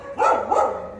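A soi dog, a Thai street dog, gives two close, loud barks in quick succession, with nothing else sounding around them.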